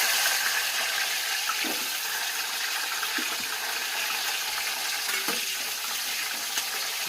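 Small shallots fry in hot coconut oil for a Kerala chicken curry, giving a steady soft hiss broken by a few brief clinks of stirring.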